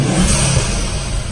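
A car engine revs hard in a short burst, the roar rising then settling into a rough, loud idle-like growl, heard up close with no voices; the car is a Mk2 in for wheel balancing, alignment and tracking.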